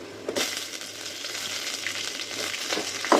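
Potato pieces and capsicum sauté in hot oil in a kadai, a steady broadband sizzle running throughout with a few brief scraping stirs, close and fairly loud, no voices.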